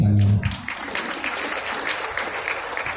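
Classroom audience at an on-site Python class breaks into applause after a brief voice at the start, the clapping continuing steadily at moderate volume for a few seconds.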